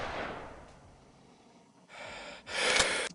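Cinematic sound design breathing effect: a heavy exhale swells and fades, then after a brief lull a harsher, louder breath layer builds, stacked with a sharp impact-like burst near the end.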